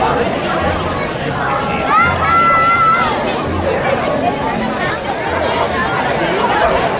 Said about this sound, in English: The crowd on 422 waiting for the Mush in the Slush.